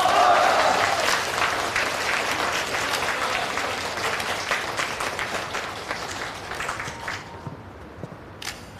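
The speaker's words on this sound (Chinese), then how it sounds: "大家鼓掌。" Audience applause from seated guests at a company founding gathering styled like an army comrades' reunion, a steady broad wash of clapping that fills the room, holds for several seconds and gradually thins out.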